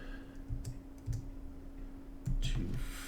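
Keystrokes on a computer keyboard in a quiet room: a few short clustered bursts of clicking, a brief pause, then a louder run of typing near the end, with a steady low hum underneath.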